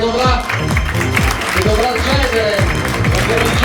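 Crowd at a one-day model and mister pageant prize ceremony gives a round of applause for a departing winner named Asia, steady loud clapping mixed with music and a voice speaking over it.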